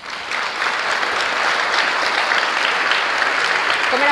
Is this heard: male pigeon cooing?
no